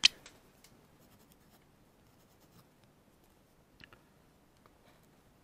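Pen drawing on a surface, faint sparse scratching strokes after a sharp tap at the start, quiet and intermittent with no talk.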